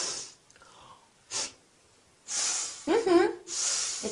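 A disapproving sniff, a short sharp nasal intake of breath heard alone and close, among a few other breathy nasal sounds with brief quiet gaps between them.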